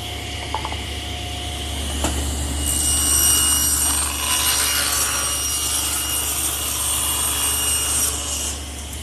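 Table saw blade cutting wood for a blanket chest project: a steady, loud rasping cut that holds for most of the nine seconds over a constant low motor hum, with no talk.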